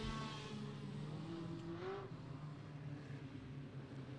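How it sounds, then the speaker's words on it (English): A pack of Legends race cars on hot lap qualifying at a short-track speedway drones faintly in the distance, a low steady engine rumble with one car's rising rev sweeping past briefly. "That'll be the first 4 cars out in group number 1 for INEX Legends"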